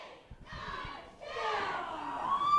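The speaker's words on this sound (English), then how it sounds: "I hear the crowd counting along." A professional wrestling crowd shouts and chants together in rising bursts, counting along during a series of punches, loud and lively, with a voice briefly audible at the start.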